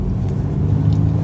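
Ford Mustang Mach-E electric car pulling away onto an open road, a steady low rumble and road noise heard from inside, loud and continuous with no voices.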